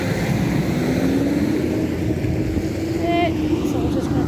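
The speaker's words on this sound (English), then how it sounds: "there's a fire engine coming back down from Obstell" A fire engine passes on the road nearby, heard as a loud, steady traffic roar with a rising engine whine and a brief high tone; talk is faintly present.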